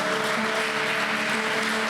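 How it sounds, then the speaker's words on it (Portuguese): Congregation applauding loudly during a Wednesday church service, a continuous, even roar of many clapping hands with a sustained musical tone underneath and no break. "Você pode aplaudir bem forte ao Senhor?"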